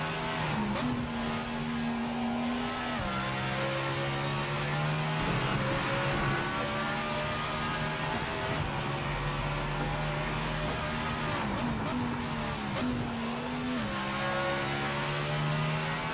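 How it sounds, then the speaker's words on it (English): Race car engine in Project Motor Racing revs and shifts steadily through gears, a continuous high-pitched drone with rising and falling pitch, loud and close with no talking over it. "this sounds more like the real car. Because it's obviously higher pitched."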